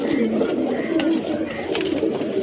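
Andhra pigeons cooing in a loft, a steady run of low, soft throaty coos close by, with faint bird chatter and a little background voice.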